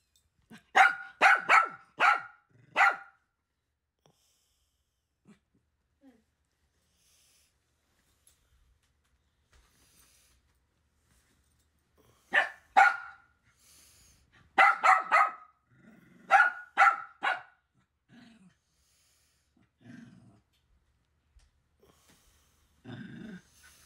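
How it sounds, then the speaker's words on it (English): A puppy barks in quick bursts of several sharp yaps, with short growls between them, close and loud indoors, broken by silent gaps. "Now you just want to bark at her?"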